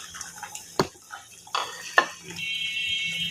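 Fish pieces go into a simmering vegetable curry, bringing a few sharp clinks and splashy plops followed by a low bubbling simmer and a faint hiss.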